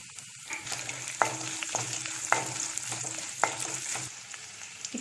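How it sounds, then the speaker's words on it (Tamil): Asafoetida stirred into a sizzling tempering in a pan for ven pongal, a steady crackling fry with a few sharp spoon scrapes against the metal, close and without speech. "இப்போது பெருங்காயத்தை ஆட் பண்ணி நல்லா மிக்ஸ் பண்ணியாச்சு."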